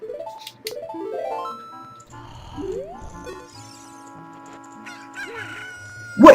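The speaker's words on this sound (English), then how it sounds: "Let's equip that chicken that hatched." An equipped chicken in Zelda: Ocarina of Time gives a stepped electronic rooster crow at the start, followed by assorted game sound effects and a sudden loud burst at the end.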